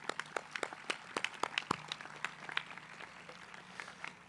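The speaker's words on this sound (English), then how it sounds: "So I give you a round of applause." Sparse applause from a graduation audience at an evening leadership academy ceremony held on an outdoor field, heard as scattered, distinct claps rather than a full ovation, fairly faint and with no talk over it.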